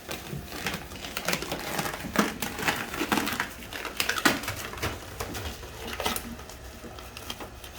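Plasti Dip liquid wrap is peeled off an Audi A5 door, making close, irregular crackling and tearing rips with sharp bursts scattered throughout.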